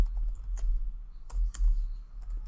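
Typing on a computer keyboard, a few scattered soft clicky keystrokes close by over a low background rumble, with no talking.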